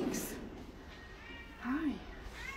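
A cat at an animal rescue shelter gives a few soft meows, including one clear rising-and-falling cry near the middle, fairly close and quiet among faint background voices.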